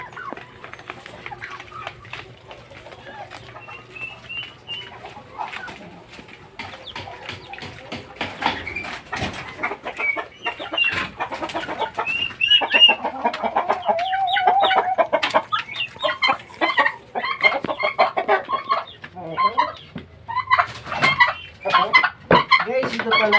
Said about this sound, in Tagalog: Meron pa pala tayong isang alagang pabo na puti